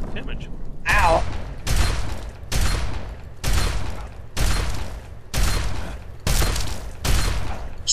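Repeated gunfire in Fallout 3, with about seven loud, broadband bursts spaced roughly one second apart over a steady background, and speech mixed in.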